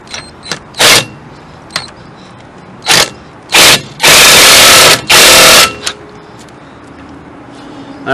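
Lug nuts on a Mercedes wheel are tightened with a power tool, giving short whirring bursts and two longer buzzing runs, loud and close, separated by brief pauses.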